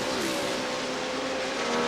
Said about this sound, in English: Greg Ray in the yellow car right in front of him.